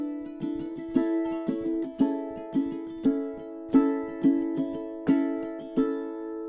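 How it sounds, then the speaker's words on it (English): Ukulele strummed in a thumb-and-index-finger style, bright nylon chords struck in a lively, syncopated rhythm with sharp accents, close and clear with no voice. "ukulele style strumming"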